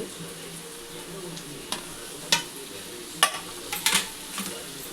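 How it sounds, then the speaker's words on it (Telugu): Potatoes and green chillies fry in a pan for egg curry, a soft steady sizzle broken by several sharp clinks of a stirring spoon against the pan, close and moderately quiet. "ఇప్పుడు బంగాళదుంపలు వేస్తున్నానండి బంగాళదుంపలు పచ్చిమిరకాయలు"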